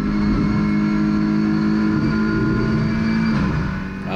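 An Audi RS3 LMS TCR touring race car is heard onboard at full throttle through a downhill left-hander at Motorland Aragón in Spain, its engine holding a loud, steady, high-revving roar close to the mic.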